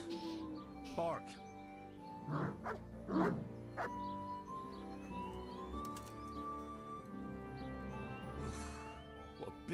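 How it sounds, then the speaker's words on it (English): Dog barking in the medieval video game Kingdom Come: Deliverance, several separate barks at moderate distance amid ambient game sounds, with some bird calls and no speech. "A dog with a strange bark is..."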